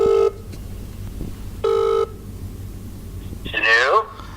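A phone call going through, with two long, even ringback tones separated by a pause, followed by a brief burst of a voice answering on the line.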